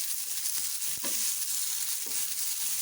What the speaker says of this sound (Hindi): 2 मिनट तक तो शैलो फ्राई करेंगे हम